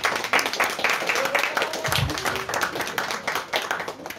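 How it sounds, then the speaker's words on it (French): A conference audience claps in a dense, steady round of applause that fills the room, with a voice briefly audible underneath. "Donc on peut les applaudir."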